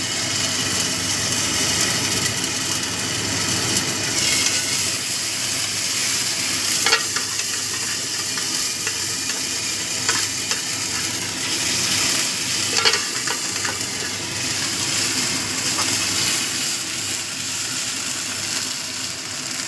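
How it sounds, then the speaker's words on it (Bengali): A bean-seed dal mixture fries in oil in a pan, giving a steady, dense sizzle that runs throughout, with occasional louder scrapes and clicks from stirring close up and no voices. "এটাকে একটু তেলের সাথে কষিয়ে নেবো যাতে কাঁচা গন্ধটা চলে যায়"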